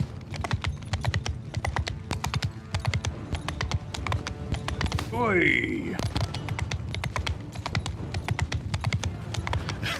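Rapid video game horse hoofbeats clop steadily throughout, with a brief sweeping whoosh midway and a short shout near the start.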